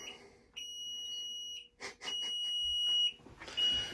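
A Rheem water heater's leak guard alarm emits long, high-pitched steady beeps, two sustained tones with a gap, close by and loud, with faint rustling between.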